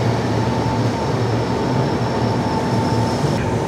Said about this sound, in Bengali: ট্রেন ঢুকছে ভুবনেশ্বরে।